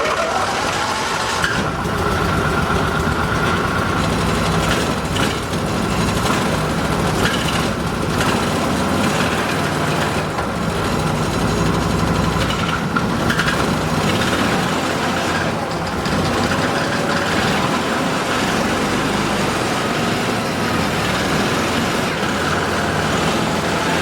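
An Argo all-terrain vehicle's engine runs at a steady, loud idle, a continuous rumbling drone that holds evenly throughout with no talking over it.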